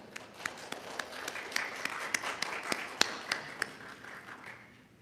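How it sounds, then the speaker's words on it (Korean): A church congregation stands and claps to welcome a returning missionary and his wife during a Sunday worship service, a moderately close, irregular patter of hand claps lasting several seconds and thinning out toward the end. "우리 잠깐 일어나시면 박수로 환영하겠습니다"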